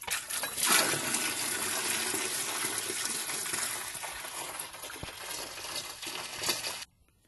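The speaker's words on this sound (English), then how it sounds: "I had to drain roughly 5 gallons of water, coolant, whatever you want to call it" Water and coolant gush steadily from a Cat engine into a bucket, a loud, continuous splashing pour close by that stops abruptly at the end.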